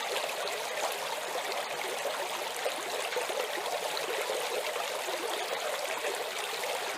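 Water rushes steadily through a custom dream-mat gold sluice box fitted with riffles, making a constant, even, close-up gush and trickle without pause.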